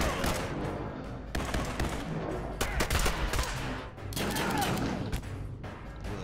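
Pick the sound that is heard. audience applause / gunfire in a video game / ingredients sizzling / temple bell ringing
gunfire in a video game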